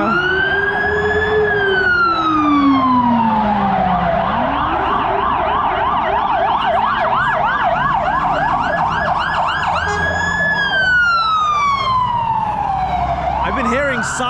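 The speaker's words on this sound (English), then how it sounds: "been hearing sirens pretty much the entire day here in Warsaw" Emergency vehicle sirens on a street in Warsaw, Poland, loud and close, several overlapping wailing and fast yelping tones rising and falling continuously over traffic noise, with a voice briefly heard.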